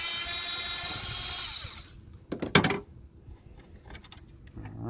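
Power tool whirring on the starter bolts of a 2003 Toyota Avalon 3.0 L V6, a sustained whine that stops, followed by a sharp metallic rattle and clinks, then the tool briefly starting again.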